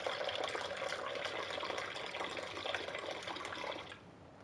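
Water pours steadily in a continuous splashing stream for a pet, like a small fountain, moderately close and fairly quiet, ending abruptly near the end.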